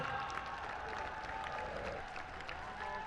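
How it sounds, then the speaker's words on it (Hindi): A Ramlila audience applauds in a soft, distant, steady patter of clapping that holds for a few seconds beneath faint background murmur. "जोरदार तालियों के साथ"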